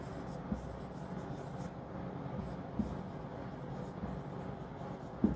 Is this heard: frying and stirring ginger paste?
no